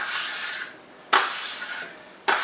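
Drywall joint compound being scraped off a taping tool, with two sharp onset strokes each trailing into a rasping drag, close and fairly loud with no talk.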